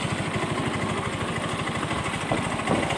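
A Yamaha Mio M3 125 scooter engine idling with a rattling CVT gives a steady, loud, close mechanical chatter with a rapid rhythmic ticking pulse over the low engine drone.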